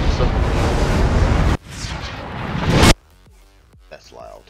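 A truck engine in a truck-driving video game turns over and catches with a loud roaring rumble that builds, then cuts off abruptly and gives way to quieter game sounds.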